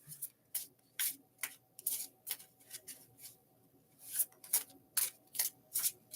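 Tarot cards being shuffled in repeated quick riffles and bursts, close by and crisp, with short pauses between shuffles in an otherwise quiet space.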